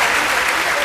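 An audience at a Moradabad poetry gathering breaks into applause, a dense, steady burst of clapping from a crowd, brief and fairly loud.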